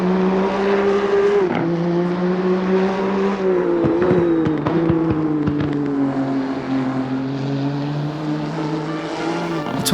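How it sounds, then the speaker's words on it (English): A Nissan GT-R with a twin-turbo V6 roars loudly in Assetto Corsa Competizione, a raspy sustained exhaust note holding steady with slight pitch dips as it shifts, heard from outside for about ten seconds. "the raspy exhaust note from that twin-turbo V6 is"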